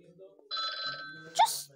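A telephone rings in a short electronic burst amid a playful plushie skit, a steady tone cut off by a sharp squeal, with children's voices talking around it.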